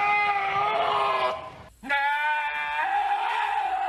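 A goat bleats twice: a long, wavering, nasal cry, a brief pause, then a second drawn-out bleat, loud and close with nothing else audible.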